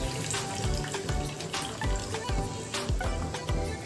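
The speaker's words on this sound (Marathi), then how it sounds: "साधारण 1 कप पाणी ॲड करते।" About a cup of water is poured into hot, oil-releasing masala for butter chicken, a steady splashing pour mixed with sizzling that runs continuously and fairly loud.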